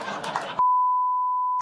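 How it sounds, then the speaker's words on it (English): Speech on a late-night news talk show cuts off abruptly into a loud, pure, steady censorship bleep that covers a swear word for about a second. "I'm going to keep saying it because I got to beep it."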